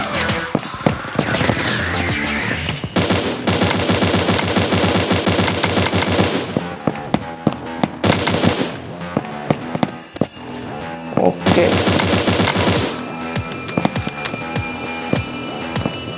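Gunfire in the Battle Force shooting video game bursts in long rapid automatic volleys, loud and dense, broken by short pauses between clusters of shots, with game music and effects underneath.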